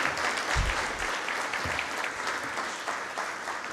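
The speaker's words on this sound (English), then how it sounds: "May we have one more round of applause for our 2021 Practitioners of Distinction." An audience at an alumni awards ceremony gives a sustained round of applause, dense and even clapping from a crowd heard fairly close, with a few heavier thumps early on.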